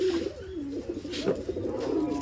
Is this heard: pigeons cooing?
yes